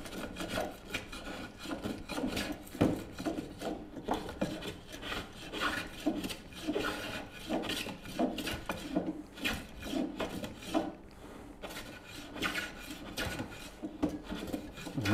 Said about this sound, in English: This is where block planes excel.